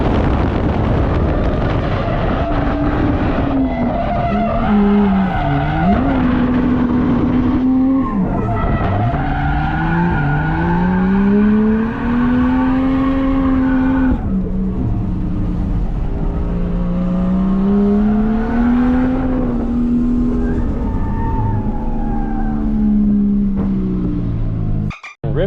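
At a motorsports park drift event, a drift car roars past close by, its engine revving up and down through repeated swells while the tires squeal and skid, loud and continuous for most of half a minute.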